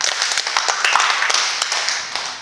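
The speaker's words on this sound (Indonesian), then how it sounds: "Tepuk tangan 6 kali." During a classroom clapping game, a group of participants claps hands in a brisk series of sharp, close claps spread over a couple of seconds, with a slightly uneven rhythm.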